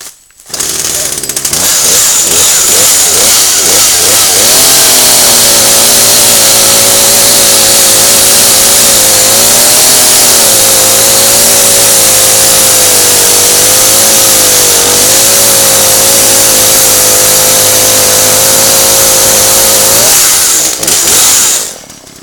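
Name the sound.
33cc Poulan chainsaw starting up and revving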